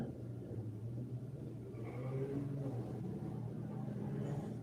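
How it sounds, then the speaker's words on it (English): A car passing outside gives a faint, low rumble that swells slightly as it goes by, muffled and distant with no speech over it. "Y'all hear the car out there?"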